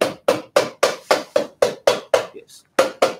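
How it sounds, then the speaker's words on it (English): A machinist hammer strikes metal in detailed work, about a dozen sharp, evenly paced blows, close and loud, with one short pause before the last two hits. "I think now I need to use this mechanist hammer, yes, to do the detailed work here."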